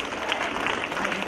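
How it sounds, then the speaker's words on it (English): An audience at a high school event applauds, a dense, continuous wash of clapping hands filling the whole moment at moderate loudness, with no one speaking over it. "One round of applause to ma'am"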